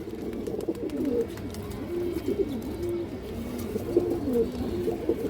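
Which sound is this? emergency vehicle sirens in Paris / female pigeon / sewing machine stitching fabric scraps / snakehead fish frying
female pigeon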